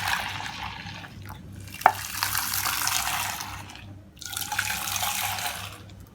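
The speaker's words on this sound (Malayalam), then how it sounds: "പാല് വേറൊരു പാത്രത്തിലോട്ട് നമ്മൾ ആറ്റിയിട്ട് നന്നായിട്ട് ആ പത വരണം." Boiled milk is poured back and forth between vessels to froth it for Kerala karakki tea, two long close splashing streams separated by a brief pause and a small clink.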